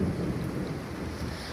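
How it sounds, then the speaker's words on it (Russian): Thunder rumbles low and continuous during a storm with heavy rain and hail in Krasnodar Krai, a deep steady roll under the noise of downpour, with no voices. "Блин, ну просто гром, он не перестает."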